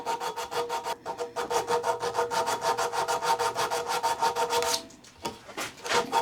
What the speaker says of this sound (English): I'm going to get some 240 grit sandpaper, and I'm going to start by working down here.